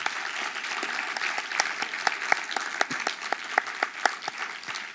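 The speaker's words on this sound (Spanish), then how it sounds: "Un aplauso para el maestro Luis Alfonso." A small audience claps for a teacher after an academic talk, sparse and distinct individual claps at a moderate distance, fairly quiet and irregular.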